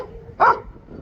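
A pet dog in a garden lets out one short, sharp bark, fairly close, against quiet outdoor background.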